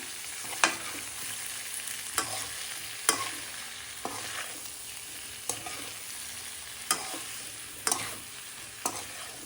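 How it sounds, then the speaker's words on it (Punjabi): Mixed vegetables stirred into spices in a pan, a soft, constant sizzle broken by regular sharp scrapes and knocks of a spoon against the pan, close and without speech. "ਚੰਗੀ ਤਰ੍ਹਾਂ ਮਸਾਲੇ ਦੇ ਵਿੱਚ ਅਸੀਂ ਸਬਜ਼ੀਆਂ ਮਿਕਸ ਕਰ ਲੈਣਾ"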